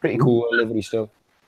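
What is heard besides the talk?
No distinct noise like a dog, phone or traffic.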